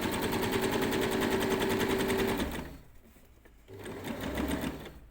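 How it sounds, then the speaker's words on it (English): A sewing machine runs fast to stitch the crotch seam of a pair of summer shorts, loud and close. It whirs steadily, pauses briefly, then starts again, with no talking. "Make sure you only got 2 layers of fabric, nothing's getting caught underneath, and stitch down to those notches."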